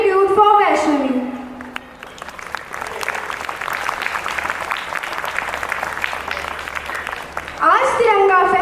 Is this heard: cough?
no